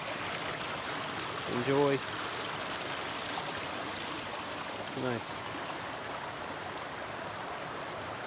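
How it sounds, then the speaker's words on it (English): A mountain stream on a snowy Adirondacks trail rushes steadily as a constant broadband wash, with someone briefly speaking over it twice. "hey, listen to the water"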